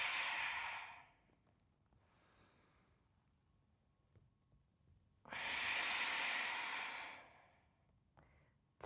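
Two long, breathy exhales from a person doing a posture exercise, with a softer breath between them, all close and airy against quiet surroundings.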